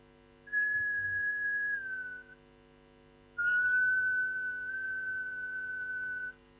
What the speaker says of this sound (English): So I think this part shows you whistling